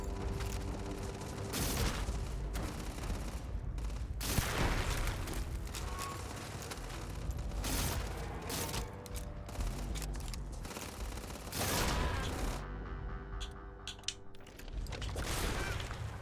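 Pistol gunfire in the video game Starfield, fired amid a dense, continuous game mix of rapid shots, explosions and mechanical clatter, loud and unbroken throughout.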